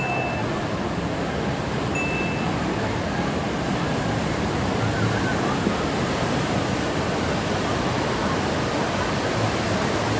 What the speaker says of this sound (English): here's a video of me and my brother getting hit by one of the waves